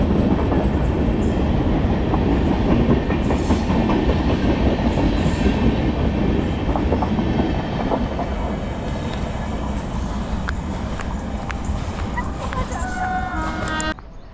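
A Hyderabad MMTS local train with AC coaches runs on the Falaknuma to Lingampally line, making a loud, continuous rumble and rattle of wheels on track that eases slightly toward the end.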